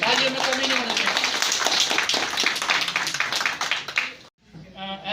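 An audience at a retirement party claps loudly and continuously during a shawl-honouring ceremony, while a voice speaks over the applause, which cuts off abruptly near the end.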